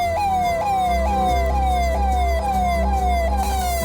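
Forest department vehicle siren wailing through village streets at night, a loud continuous repeating rising sweep over a low engine rumble, close and steady with no voices.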